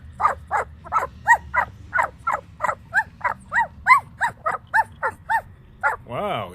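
A puppy gives a steady run of short, high whimpering yips and small barks, about two or three per second, close and fairly loud, ending in a longer drawn-out whine.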